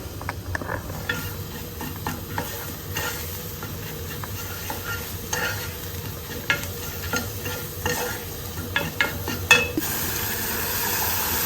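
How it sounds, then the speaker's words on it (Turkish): Tomato paste is stirred in a frying pan with a continuous sizzle and repeated spoon scrapes and knocks against the metal, growing busier toward the end, close and without talk. "kadar şey koydum salça. Bunu da karıştıracağım."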